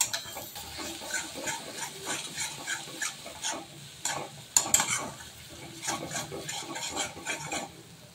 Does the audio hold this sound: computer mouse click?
no